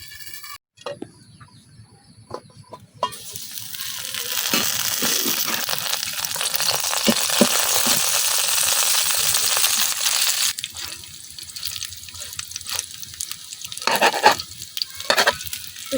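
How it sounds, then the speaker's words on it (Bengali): Taro fritters (kochur bora) frying in hot oil in a village kitchen, a loud steady sizzle that swells and holds for several seconds, then fades into scattered scraping and clinks as the fritters are turned. "তো সবগুলো বড়াই আমি উল্টায় পাল্টায় খুব ভালোভাবে বাজিয়ে নিছি"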